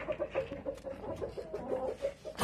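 Hens in a backyard coop cluck repeatedly in short, uneven bursts close by, with no one talking.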